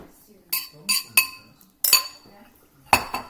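Utensils clink sharply against a bowl about five times as Oreo filling is added to a peanut butter mixture for a peanut butter chocolate Oreo pie, with quiet gaps between the clinks.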